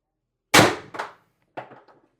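A CO2-powered air gun fires one sharp, loud crack at close range, followed by quick metallic rattles and a smaller clack as the action settles, with no talking.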